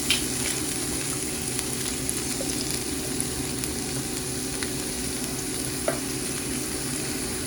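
Ginger and shrimp paste sauté in a pan with onion and garlic for laing, a steady close sizzle and frying hiss with occasional stirring scrapes, no voices.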